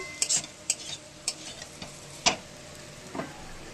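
Food sizzles in a pan, frying until crisp, while a utensil scrapes and clicks against it in several sharp, separate stirs. Nobody speaks.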